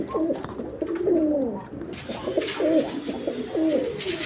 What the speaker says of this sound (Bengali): এখানে এক পেয়ার জ্যাকোবিন কবুতর আছে